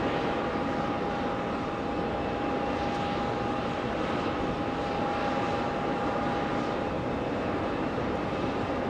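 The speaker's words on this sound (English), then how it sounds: ".767 landing on 4 right." A Boeing 767 jet landing on runway 4 right at JFK airport gives a steady, loud, broad engine roar with a faint sustained whine, unbroken throughout.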